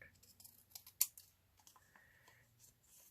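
Scissors snip through card for a handmade card project, a few quiet close cuts with one sharper snip, soft and faint in a quiet room.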